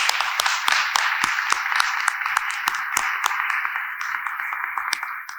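Staff members of Crispus Attucks stand while a crowd at a governor's press conference claps steadily, with dense sustained applause and sharp individual claps throughout.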